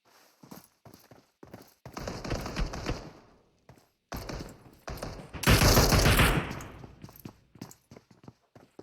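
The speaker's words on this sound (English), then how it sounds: "Good shots on tags. Espinoza keeping that recoil down to a minimum." Gunfire in the PUBG Mobile battle royale game: bursts of rapid automatic shots, first scattered single cracks then sustained sprays, loud and close, with footstep-like taps between volleys and no talk.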